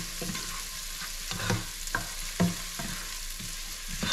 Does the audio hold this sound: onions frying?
yes